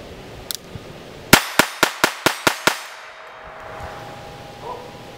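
Seven sharp, evenly spaced pops from a small Beretta Model 950BS Minx .22 Short pistol with carbon steel slide and aluminum frame, fired in quick succession, each crack ringing briefly, followed by quiet with a faint tone.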